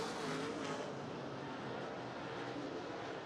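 A Chevrolet race car engine drones at high speed at Lernerville Speedway, a steady dense roar heard from a distance without talk.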